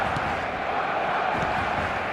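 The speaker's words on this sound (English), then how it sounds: "Well, the roof's just about stayed on, but the crowd level has gone up a notch or 10." A dense stadium crowd in the football video game eFootball roars steadily after a goal, a continuous loud wall of cheering that holds at one level throughout.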